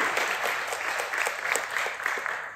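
A live audience at an AI talk on ChatGPT plugins breaks into applause, a steady, dense patter of many hands clapping close by for a few seconds.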